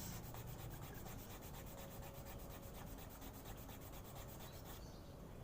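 A bamboo Sundanese flute (suling) is rubbed smooth in steady, fast, rhythmic scraping strokes, close and continuous, with no talk.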